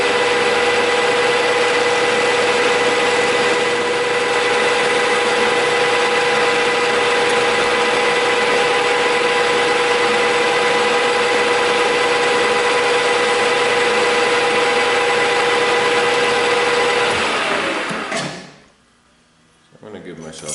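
A metal lathe turns steady and loud while cutting a shoulder and bevel on a drawbar, a constant tonal hum with a faint whine that runs for about eighteen seconds before the machine spins down into near silence.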